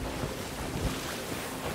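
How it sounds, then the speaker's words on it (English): Ocean waves churn and wash around a ship at sea in Sea of Thieves, a continuous rushing surge mixed with wind noise, heard without talk. "Oh my god, these waves, man."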